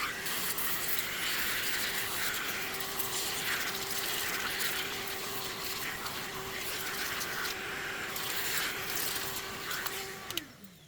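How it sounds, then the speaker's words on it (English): A steady droning whir of a Henry vacuum cleaner runs continuously at moderate volume, then cuts off abruptly near the end. "I'm just going to use a little vacuum cleaner, or a Henry vacuum cleaner,"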